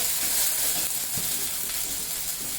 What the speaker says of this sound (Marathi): इथे आपल्याला सगळं चांगलं भाजून घ्यायचं आहे